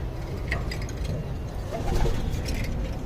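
Domestic pigeons in a loft coo steadily and close by, a continuous soft rumble of calls from several birds with a few faint clinks.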